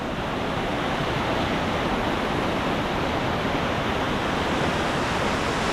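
A river swollen by rain rushes past steadily in Idukki, a dense and continuous roar of flowing water with no voices.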